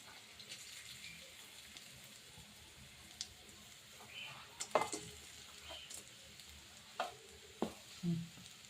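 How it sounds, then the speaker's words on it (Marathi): Jaggery and grated coconut being sautéed in hot oil in a pan, a soft steady sizzle with scattered scrapes and stirring knocks, close and fairly quiet, louder clatters near the end. "आता मी गूळ आणि खोबरं त्यात टाकणार आहे परतून घ्यायला"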